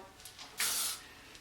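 L'Oréal Elnett Satin hairspray released onto the right side of the hair in one short hiss of about a third of a second, close and clear, with quieter soft rustles before and after.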